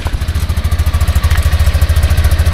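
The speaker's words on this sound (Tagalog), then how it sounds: "Pakinggan natin yung tunog ng makina." A brand-new tuktuk motorcycle engine idles right after its first start, with a steady, even chugging pulse that stays loud and close throughout.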